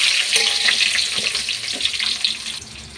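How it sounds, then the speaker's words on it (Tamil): Onions fry in hot oil with mustard and fenugreek seeds for a kara kuzhambu, giving a steady close sizzle and hiss with no talking. "இப்போ வெங்காயம் ஆட் பண்ணிக்கலாம்."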